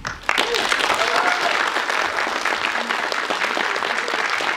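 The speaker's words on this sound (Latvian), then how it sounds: "Aplausi runā paši par sevi" Loud, sustained applause from an audience at a pre-screening presentation of Star Trek Into Darkness, dense clapping that starts abruptly and holds steady throughout, with no voices over it.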